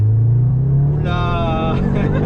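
A 2021 Audi S3 engine rising in pitch as it accelerates, loud and close from inside the car, with a gear change near the end.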